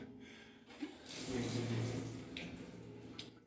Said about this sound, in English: quite a few people coming into here and getting water, filling up big jugs